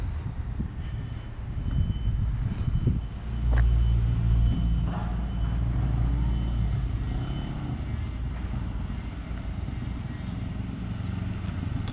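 A motorcycle accelerating during a riding lesson, its engine a loud, close low rumble that swells around the middle and then holds a steady drone with wind noise.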